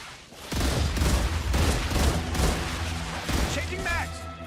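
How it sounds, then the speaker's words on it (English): Gunfire in the video game StarRupture, short bursts from an automatic weapon fired repeatedly at close range, loud and punchy with brief gaps between volleys. "I'm trying to get like 2-round bursts in their faces."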